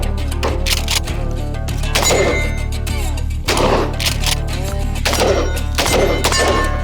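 Shots from a .308 rifle fired at steel targets 20 yards away, several loud sharp cracks spaced a second or so apart over music and background chatter.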